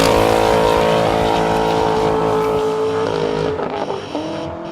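A 1964 Corvette with an LS1 engine and a Flowmaster 50 Series Delta Flow exhaust gives a loud, close, deep rumbling drone that holds steady, then drops as the revs fall away near the end.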